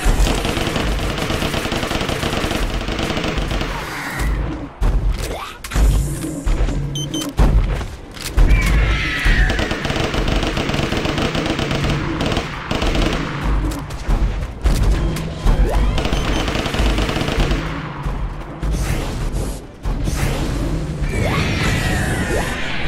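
Turret gunfire in the video game Orion: Prelude: dense rapid bursts of automatic fire and heavy booms, loud and nearly continuous with brief gaps, no talking over it.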